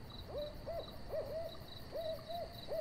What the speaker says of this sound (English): The sound of crickets and owls filled the air